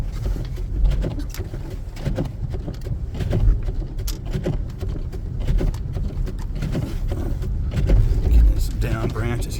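A 2014 Jeep Grand Cherokee Summit drives over downed branches in a Kansas blizzard, with continuous road rumble and irregular cracking, thumping snaps and rattles from beneath the vehicle, loud and close throughout.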